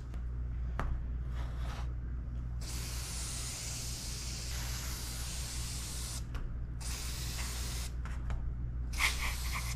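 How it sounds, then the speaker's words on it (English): Safari Charlie citrus rust remover hisses from an aerosol can in several bursts of varying length, sprayed close up onto the rusted barrel of a Stevens .410 single-shot shotgun over a low steady hum. "So we're just gonna spray that on and let it sit."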